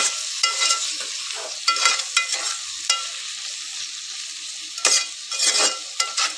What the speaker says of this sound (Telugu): ఇవి కూడా ఒక 5 మినిట్స్ స్పైసెస్ అనేది మంచిగా ఫ్రై అవ్వాలి.